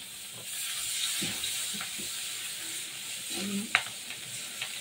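Onion added to hot oil left from frying eggs hisses into a soft, steady sizzle, with a few clinks and stirring scrapes of a utensil in the pan.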